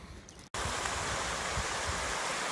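A brook swollen after a week of rain rushes steadily on a hillside hike, a loud, dense, continuous roar of flowing water heard up close after a brief quieter moment.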